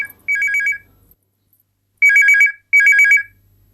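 A telephone rings in three short electronic trilling bursts with pauses between them, loud and close.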